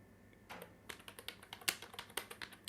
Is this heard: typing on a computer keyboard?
yes